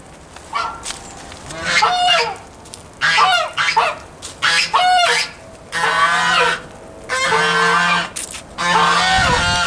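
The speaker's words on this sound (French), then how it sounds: "On finit en apothéose avec un concert de notre couple d'oies." A pair of geese honk in a garden, with loud, close, repeated calls in bursts and short pauses over about ten seconds, with no talking.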